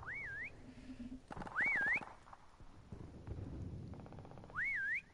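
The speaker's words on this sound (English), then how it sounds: "Why am I whistling?" A rising-and-falling whistled tune plays three times from a player's prop in Call of Duty Prop Hunt, clear and loud, over low rumbling game ambience with scattered clicks and thuds.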